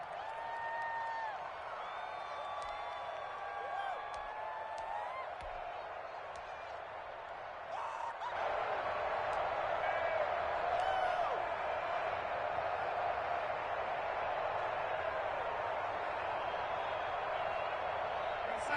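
Stadium crowd at a Broncos versus Steelers football game, a steady distant roar of cheering that swells louder partway through and holds, with scattered whoops above it.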